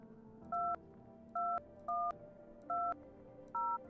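Telephone number dialed in a video game, five crisp dual-tone keypad beeps in an even rhythm, clear and close over a quiet background hum.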